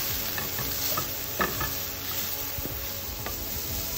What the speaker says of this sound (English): And now we will start to add the purple cabbage.